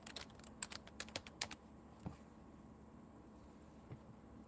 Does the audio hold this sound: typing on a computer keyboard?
yes